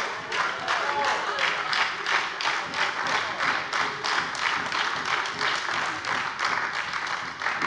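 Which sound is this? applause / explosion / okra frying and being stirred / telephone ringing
applause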